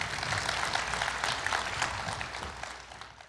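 Audience applause fills a university anniversary ceremony hall, a dense, steady wash of many hands clapping that holds for a few seconds and then begins to thin out.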